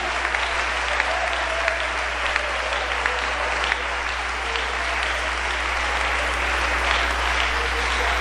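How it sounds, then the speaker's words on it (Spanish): A large church congregation claps steadily and loudly for several seconds, a dense continuous wash of applause with no pauses and a low hum beneath. "Dele ese aplauso al Señor."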